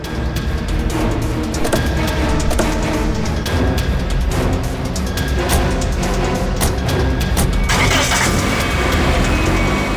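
Car engine runs loudly and steadily with rumbling and intermittent clatter, sustained throughout with a sharper burst near the end, as the car pulls away.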